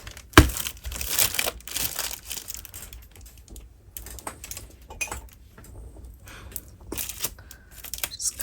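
Skin tone marker packaging being opened up close: crinkling plastic and tearing, with scattered sharp clicks and rustles, alone with no talk.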